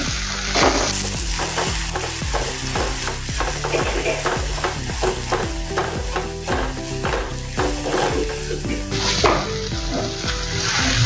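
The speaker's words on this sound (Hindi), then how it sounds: "अच्छे से मिक्स कर लेंगे" Cumin and coriander powder being fried and stirred into dal in a hot pan: a loud, steady sizzle runs throughout, cut by a regular rhythm of spoon scrapes and clinks against the pot, up close.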